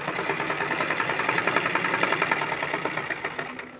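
An electric sewing machine runs steadily while stitching darts into a blouse, a rapid, even mechanical rattle heard up close and alone for a few seconds.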